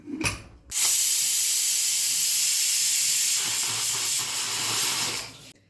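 A pressure cooker cooking kanchikai (citron) for pickle releases a loud, sustained hiss of escaping steam with a whistling edge, lasting several seconds before cutting off sharply.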